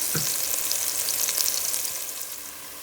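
Onions fry in oil with cumin in a pot, a close sizzle with a few stirring scrapes early on that fades gradually softer toward the end, no voices.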